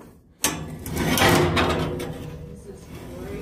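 A sliding door on a 7-foot horse pen panel rolls open with a sudden clunk, then a sustained rumbling roll that slowly fades, and someone talks over it.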